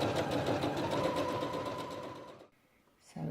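A domestic sewing machine runs a cross stitch, pattern number 27, in a continuous fast whirring, mechanical chatter close by, then stops abruptly, leaving brief quiet before a new sound begins.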